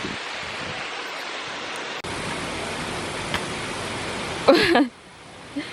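Waterfall at the Royal Project flower farm in Chiang Mai, a steady broadband rush of falling water with a brief louder burst near the end.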